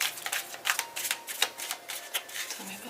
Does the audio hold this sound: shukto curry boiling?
no